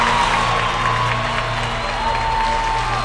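Audience applause after a song performance on a singing show, a steady wash of clapping with cheering and scattered whoops from the crowd, loud and sustained for the whole stretch.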